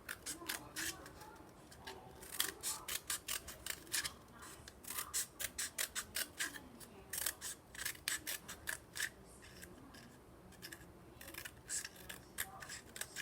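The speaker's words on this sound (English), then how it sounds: "so I better cut between it" Scissors cut paper for a dandelion craft in a long run of quick, crisp snips, some in bursts and some spaced out, close to the microphone, with a child and an adult talking softly underneath.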